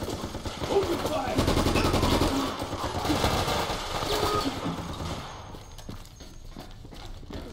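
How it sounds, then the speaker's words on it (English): Gunfire in the video game Resident Evil: Operation Raccoon City, with rapid automatic bursts and sharp shots in dense, clattering volleys under game music and voices, thinning out toward the end. "Open fire!"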